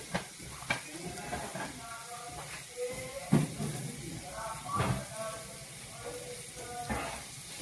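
Bitter gourd bhaji cooks in a pan on a low flame with a soft steady sizzle and occasional stirring scrapes, while a voice talks over it.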